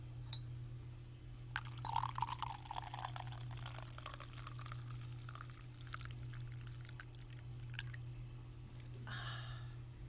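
Tea pours into a heart sutra cup in a quiet room, a soft trickling stream lasting several seconds over a low steady hum, with a faint clink near the end.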